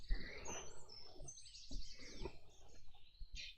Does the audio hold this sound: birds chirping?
yes